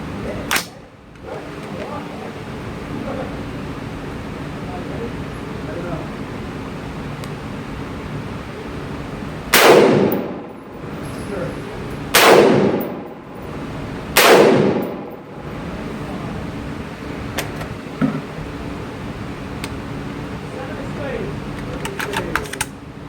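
An M16A1 rifle fires three sharp, loud single shots spaced about two seconds apart at an outdoor range, with quieter range noise and faint clatter before and after.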